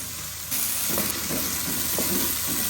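Onions frying in hot oil over a medium-low flame for a mixed vegetable curry with potatoes, peas and carrots, giving a loud continuous sizzle that jumps up suddenly and then carries on, with soft stirring scrapes pulsing through it.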